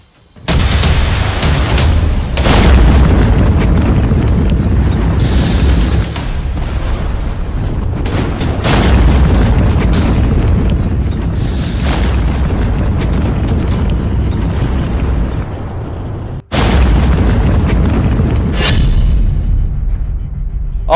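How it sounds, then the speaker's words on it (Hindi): Drone explosions in the sky over Abu Dhabi, where a defence system struck the drones, come as loud, close booms followed by long roaring rumbles, with several separate blasts and no talk. "2 ड्रोन को यूएई के डिफेंस सिस्टम ने ढेर कर दिया, लेकिन तीसरा ड्रोन फट गया।"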